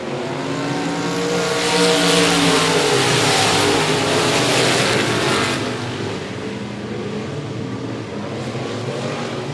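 Race cars roar around the oval at 105 Speedway during a regular race program, a dense layered engine drone swelling and fading as the pack sweeps past, with overlapping revving and Doppler sweeps throughout.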